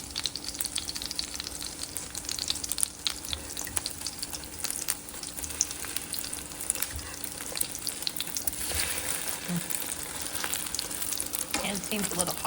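Carnivore-style French toast frying in a hot pan, a dense continuous sizzle and crackle throughout with scattered spitting pops and a faint low hum beneath.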